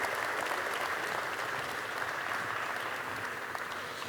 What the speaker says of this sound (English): Please stand up and give applause.